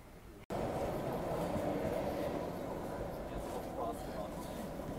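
A loud, steady rumble of a train rolling into a station in Germany, starting abruptly and holding a dense low roar throughout.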